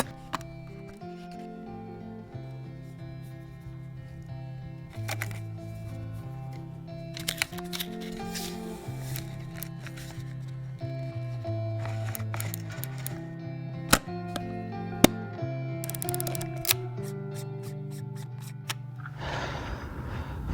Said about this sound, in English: Let's get this film loaded up and see what we can get.